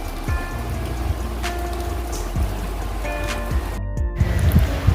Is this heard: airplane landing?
no